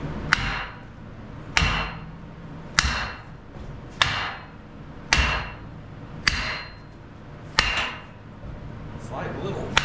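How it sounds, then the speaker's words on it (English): A big sledgehammer strikes a stuck push-out bolt on a heavy dammer diker implement, with eight loud, ringing metallic blows spaced about a second apart, close up and with little else around them. "The push-out bolts don't work anymore, so big sledgehammer is what we got. Just gonna smack on this."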